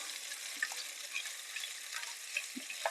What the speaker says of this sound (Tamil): இது எண்ணெயிலேயே நல்லா வதக்கிக்கோங்க.